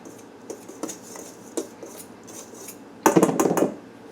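Flour and salt mixed together in a bowl, with light scattered taps and scrapes of a utensil followed by a louder burst of clattering stirring near the end.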